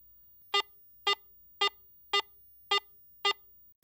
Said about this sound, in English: Listen to the medium tone in standard mode